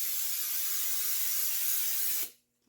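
A continuous hissing spray of cooking spray from an aerosol can into a baking pan, close and steady for about two seconds, then cutting off abruptly into quiet.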